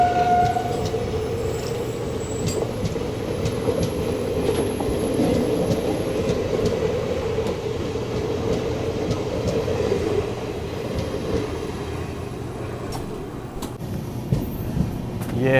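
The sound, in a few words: train at Piploda Bagla railway station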